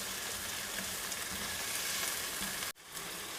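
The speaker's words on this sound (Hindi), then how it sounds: "प्याज को हम लाइट सा ब्राउन करेंगे" Two medium-sized finely chopped onions frying in hot oil, giving a steady, close, even sizzle that cuts out briefly near the end before resuming.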